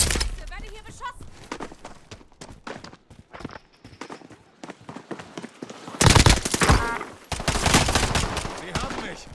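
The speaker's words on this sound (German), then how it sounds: "Wir werden hier beschossen." Gunfire in Call of Duty: Modern Warfare, with bursts of rapid shots and sharp single cracks, growing louder and denser toward the end, under intermittent talk and game voice callouts.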